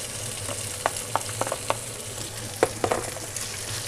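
Sliced chicken hits hot oil in a frying pan, sizzling steadily under a run of sharp stirring clicks and scrapes.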